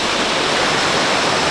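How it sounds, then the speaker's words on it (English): A small waterfall in a creek near a double stone arch bridge pours in a steady, close rushing splash, loud and continuous over the short moment with no voices. "Got a beautiful, nice little fall here with a double stone arch bridge in the background"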